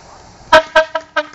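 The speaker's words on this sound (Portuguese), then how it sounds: "na hora que tocar a buzina agora, vai começar" Four short, sharp air horn blasts in quick succession, loud and tonal, signalling the start of a paintball game.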